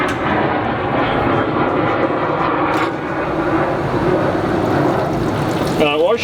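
Coolant drains out of a Mazda single-rotor rotary engine as a loud, steady rushing gush that runs unbroken for the whole stretch, with a brief voice near the end.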